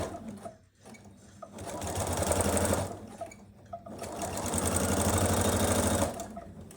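Home sewing machine stitching a log cabin quilt, running in close, steady bursts with brief pauses between seams, its motor hum and rapid needle clatter loud and alone.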